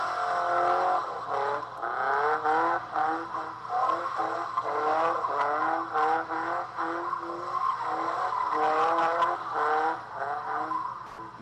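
Car wheels spinning on a KA-swapped S-chassis Nissan with different gears, heard as playback: a long wavering tire squeal with engine revving, steady and fairly loud throughout.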